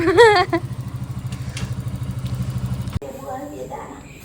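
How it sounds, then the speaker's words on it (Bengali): A motorcycle arrives on a muddy, waterlogged village road, its engine putting out a steady low chugging rumble for a few seconds under a voice before cutting off abruptly; talk continues afterward. "বাইকের আওয়াজ পেয়ে গেছিলাম"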